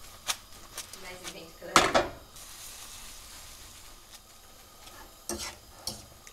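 Taglierini pasta with a brown shrimp, zucchini and chilli sauce is tossed in a pan, with soft clinks, a louder scrape and clatter mid-way, and faint sizzling underneath; brief speech comes through between the movements.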